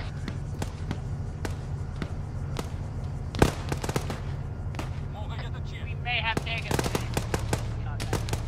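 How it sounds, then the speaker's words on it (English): Gunfire in the military shooter game ArmA 3: scattered sharp shots and short bursts crackle throughout over a steady low rumble, with one louder nearby report midway and a denser volley toward the end. "What's all that fire?"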